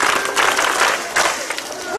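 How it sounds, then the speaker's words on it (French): An audience applauds at a school hygiene session, a dense burst of clapping lasting about two seconds before cutting off abruptly. "On applaudit pour elle."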